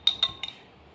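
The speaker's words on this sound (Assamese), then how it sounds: "সেইবাবে অলপ লৰাই দিছোঁ।" A turmeric mixture is stirred in a pan, producing three quick metallic clinks of a utensil against the pan, close and bright, then quiet.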